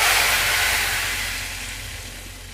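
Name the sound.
tadka (garlic and black pepper tempering) poured into dal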